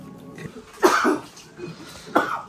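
Someone at a momo party gives two harsh coughs about a second apart, close and moderately loud, with quiet room noise between them.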